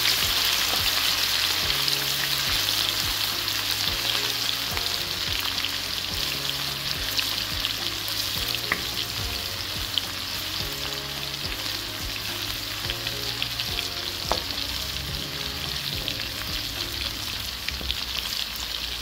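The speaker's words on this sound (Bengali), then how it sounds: "আমি একটু লাল লাল করে রসুনটা ভেজে নিব।" Plenty of garlic fries in hot oil, browning with a continuous, even crackling sizzle that runs close and steady throughout, with faint music underneath.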